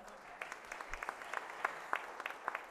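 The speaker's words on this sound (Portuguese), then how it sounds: "Uma salva de palmas." Sparse, faint applause at a formal legislative ceremony awarding medals and titles, scattered individual claps from a small group rather than a full ovation, quiet and distant.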